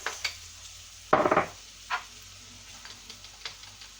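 Onions hitting hot oil for a Thai vegetable curry produce a sharp sizzling burst, then lighter crackles and the scrape of stirring in a pan, close and without speech.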